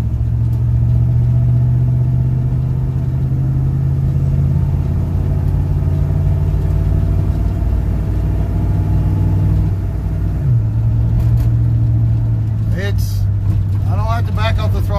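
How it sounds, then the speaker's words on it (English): A 1967 Chevy C10 truck drives steadily with a continuous engine drone and road rumble, its automatic transmission shifting audibly partway through as the engine tone drops; someone talks over the noise. "There's first and second."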